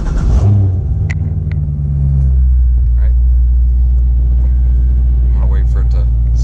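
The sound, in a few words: C6 Corvette engine starting and idling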